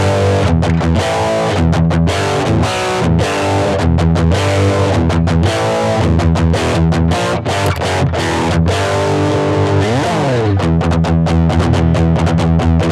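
Electric guitar run through the Metal preamp of a Boss ME-80 multi-effects unit, emulating a Bogner Überschall amp: thick, heavily distorted chugging riffs with tight palm-muted stops and a sliding bend, loud and continuous.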